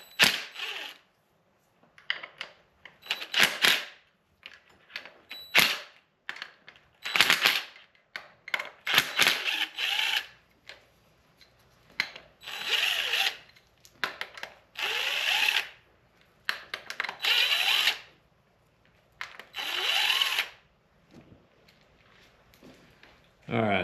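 A power tool buzzes in repeated short bursts as five bolts are removed from a cam sprocket on a Toyota Supra JZ engine, close and loud, with quiet pauses between runs and talking in between.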